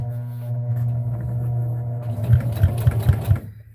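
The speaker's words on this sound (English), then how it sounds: "I'm going to sew all the way till I get just past the end." A sewing machine stitches fabric scraps for a potholder, its motor humming steadily at close range before the needle picks up into a fast, rhythmic chatter that stops abruptly at the end.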